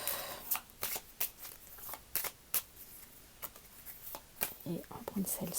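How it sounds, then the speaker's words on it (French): Tarot cards being shuffled and drawn, a series of crisp riffling and snapping bursts at an uneven rhythm, close and fairly loud. "on va prendre une dernière carte d'ordre général"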